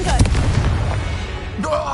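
Confringo blasting spell explosions in the Hogwarts video game: a muffled boom near the start and a sharper burst later, set against ongoing combat noise and game sound at moderate loudness.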